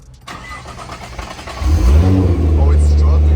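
A Nissan 350Z cranks and struggles to start, a weak whirring turnover that builds into a rough, loud low rumble as the engine catches and idles unevenly, with voices in the background.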